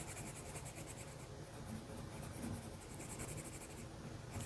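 Pencil drawing and colouring on paper for a simple flower drawing: soft, continuous scratchy strokes close by, quiet and steady with no talking.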